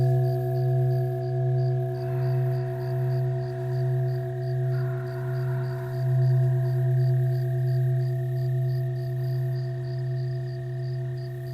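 Sound bath with healing instruments: a steady low drone and layered sustained tones ring together with a gentle pulsing swell, continuous and close throughout with no talking.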